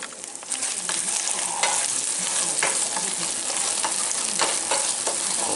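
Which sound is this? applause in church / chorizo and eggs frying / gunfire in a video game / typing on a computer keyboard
chorizo and eggs frying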